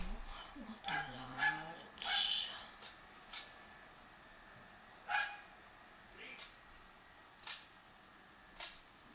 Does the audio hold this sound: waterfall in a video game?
no